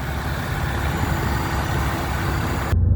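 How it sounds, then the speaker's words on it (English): A 2015 Nissan Pathfinder engine idles close by with a steady, even rumble that holds for about three seconds before the sound shifts abruptly near the end. "Okay, now with the motor running, a shot of the exhaust, very, very clean."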